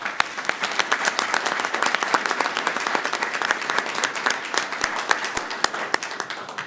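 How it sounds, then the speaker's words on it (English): Sustained audience applause fills a board of trustees meeting hall for football players, dense steady clapping with sharp individual claps standing out, loud and close, no talk. "So for those football players, we can give them a round of applause."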